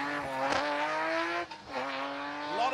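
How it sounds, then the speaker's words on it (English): A BMW rally car on an asphalt rally stage, the engine note climbing hard through the gears with sharp shifts and a brief lift, tires squealing, loud and fairly close with no voices. "I reckon we've got a BMW."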